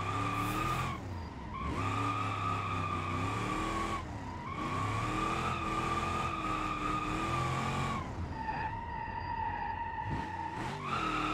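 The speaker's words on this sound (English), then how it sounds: "Start a little bit in drift already." Video game car drifting in BeamNG, tires squealing in long sustained skids over a revving engine, repeated close screeching passes with brief breaks between slides.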